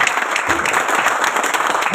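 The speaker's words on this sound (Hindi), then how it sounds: "तो सबसे पहले ताली बजा तो सारे बजाएंगे" Live audience applause at a business-plan presentation, dense steady clapping from a crowd filling the whole stretch without pause.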